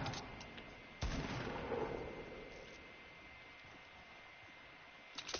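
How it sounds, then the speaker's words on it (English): Gunfire in the video game Fortnite: a sharp boom followed by a long rumbling tail, with a few fainter shots around it, heard at a moderate distance. "Somebody's shooting each other."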